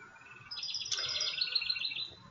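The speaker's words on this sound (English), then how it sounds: "Take a moment to listen to the birds singing." Birds sing outdoors, several bright chirping and warbling calls layered over a faint low background rumble, moderately close and without talk.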